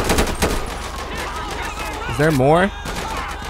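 Gunfire in GTA 5 during a police shootout at a drug bust, with sharp shots clustered near the start under ongoing talk and radio-like chatter.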